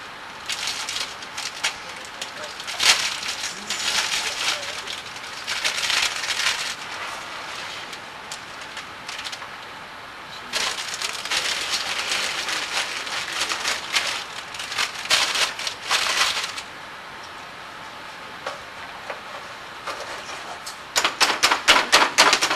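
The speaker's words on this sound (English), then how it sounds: "Now we need our walnut pieces. And I have a half a bag here," Walnut pieces are chopped with a knife on a board in quick bursts of rapid, crisp taps, loud and close, with brief pauses between runs.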